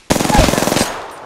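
A rapid burst of automatic gunfire from Apex Legends, about a dozen close, loud shots in quick rhythm lasting under a second, then a short fading tail.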